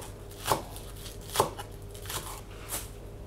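Green onions being chopped on a board for a mushroom salad, a few crisp knife strokes spaced about a second apart, close but fairly soft, with no voices.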